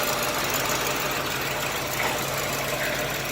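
Engine of a 1959 Corvette idling with a small exhaust leak, a steady close rumble with a faint ticking texture throughout, no talk.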